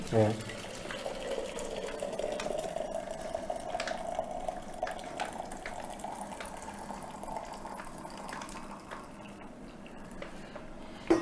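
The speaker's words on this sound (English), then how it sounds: "I pour in my hot water." Hot water poured from a flask into a cup, a steady close trickling stream lasting several seconds before fading.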